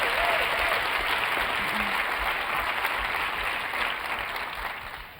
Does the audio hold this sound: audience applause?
yes